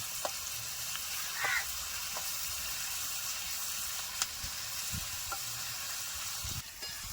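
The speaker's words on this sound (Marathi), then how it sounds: "आता कांदा आपला लाल जरा तळून घेतला व्यवस्थित" Onions fry in a pan with a soft, steady sizzle, faint and continuous, broken now and then by a few light clicks from stirring.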